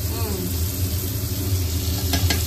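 A sandwich grilling at home, with a steady close sizzle and crackle of frying throughout, a few faint clinks and a voice briefly in the background.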